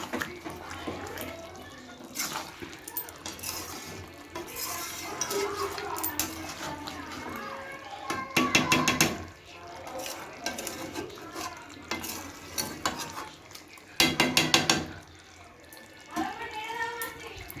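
Curry with ginger-garlic paste and spices being stirred in a pot in a home kitchen, with scraping stirs and two louder bursts of rattling and sizzling, while voices talk nearby.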